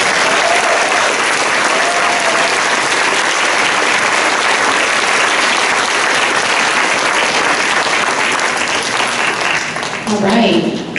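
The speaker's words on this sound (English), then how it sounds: "let's give all of these students a big round of applause" Sustained, dense applause from a school audience for students at a spring concert, loud and even throughout with voices faintly mixed in, tapering slightly at the end.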